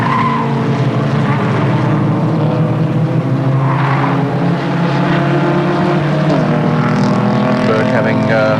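Production touring cars, including a 1987 Mitsubishi Starion, roar past in a steady, loud engine drone with shifting pitch and a brief tyre squeal, while a commentator talks over the racing.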